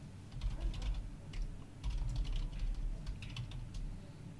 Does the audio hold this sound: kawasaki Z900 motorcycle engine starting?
no